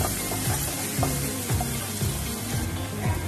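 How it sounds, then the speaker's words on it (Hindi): Carrot and onion frying in a pan for vegetable masala Maggi, a moderate sizzle under repeated rhythmic stirring strokes of a spatula. "गाजर तो ऑनियन दे दिया है इसको थोड़ा फ्राई कर देंगे पहले"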